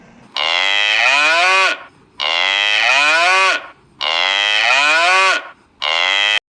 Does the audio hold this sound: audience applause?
no